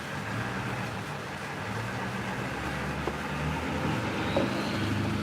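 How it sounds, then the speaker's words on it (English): A little pickup truck's engine running nearby, a steady low rumbling hum with a few faint clicks and knocks over a constant background drone, moderately loud and without talk. "That was the little pickup truck that made all that noise."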